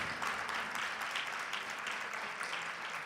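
Audience applause during a Portuguese-language sermon or talk, a steady wash of clapping from a crowd that holds level and fairly loud for about three seconds with no voice over it.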